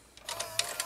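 A Toshiba Beta VCR ejecting a tape gives a brief run of soft mechanical clicks and whirring, close and quiet, with no voice over it.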